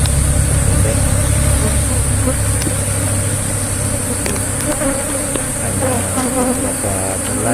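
Worker bees buzz steadily and close around a worn hive box that has held the colony for about four years, a dense, continuous drone with individual bees passing near.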